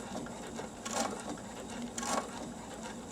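A sewing machine stitching fabric for a homemade face mask runs with a steady mechanical whir, swelling briefly into louder stitching bursts twice before settling back.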